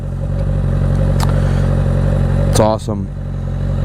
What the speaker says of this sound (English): I just wanted to give you guys a little video of the exhaust installed and what it sounds like